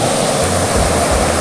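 A waterfall on a rural property in Santa Isabel pours in a loud, constant, broadband rush, heard up close and steady throughout with no voices over it.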